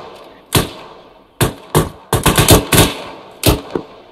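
Gunfire in the Arma 3 video game at a deliberate rate of fire: loud, close single shots spaced out irregularly, then a quicker cluster of several reports, and a final pair, with no talk.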